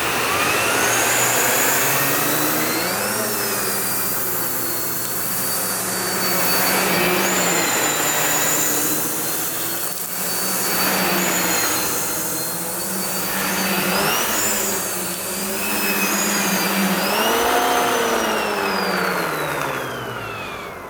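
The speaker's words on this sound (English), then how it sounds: "Let's talk about this turbo nozzles and how it can just reach under just about anything." A Wessel Werk TK 286 turbo nozzle on a vacuum cleaner runs continuously, a loud steady whine and rush whose pitch rises and dips as the head is pushed back and forth.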